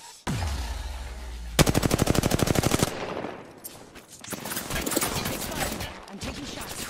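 Automatic gunfire in the video game Apex Legends rattles out as a fast, loud burst of evenly spaced shots, with a booming hit before it and scattered shots and game effects after.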